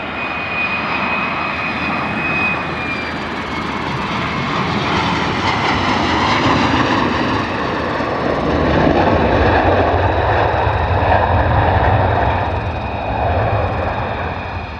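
US Air Force F-35 jets landing at RAF Lakenheath produce a loud, sustained jet roar that swells and shifts in pitch as they pass close by, with no talk.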